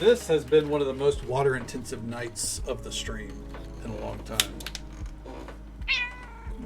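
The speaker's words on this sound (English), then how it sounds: "Yep, you did hear a kitty." A cat meows in a few short calls at the start, close by, while a person talks steadily over it, followed by a soft mechanical clicking and a brief knock.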